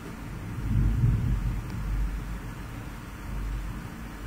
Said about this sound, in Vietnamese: Em thấy sấm chớp ạ.